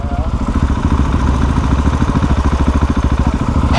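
A KTM SMC R supermoto's engine runs close by with a steady, rhythmic pulsing idle that stays loud and even throughout.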